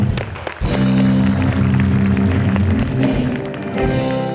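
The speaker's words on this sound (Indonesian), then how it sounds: "Oke, tepuk tangan untuk Cici Tegal." Loud TV talk show studio audience applause, a dense wash of clapping that rises quickly and carries on steadily before easing slightly.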